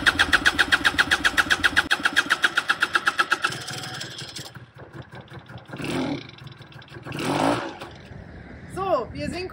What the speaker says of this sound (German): der Roller läuft wieder